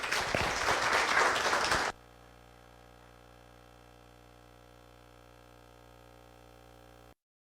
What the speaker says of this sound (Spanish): Les pido que lo recibamos con un aplauso